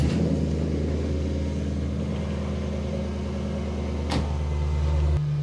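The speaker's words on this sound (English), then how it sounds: "want to start your engine. Don't rev it. Just want to pump the oil around." A Jaguar engine idles steadily just after an oil change inside a garage, a low continuous hum and rumble heard close with a brief knock near the end and no talking.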